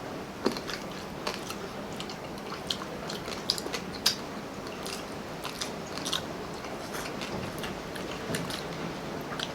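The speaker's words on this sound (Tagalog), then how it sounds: "Pasensya na po sa tunog ng ulan." Steady rain hisses in the background during a Filipino mukbang of crispy roasted pig head lechon, with sharp crunchy bites and chewing clicking repeatedly over the wash of rain; no talking.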